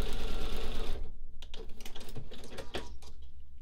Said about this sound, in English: you are going to stitch on that stitch line